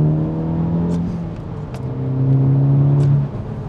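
Engine of an MTM Coupe drones steadily from inside the car while driving, a loud continuous hum that rises and dips with acceleration, with a few faint clicks and no talking.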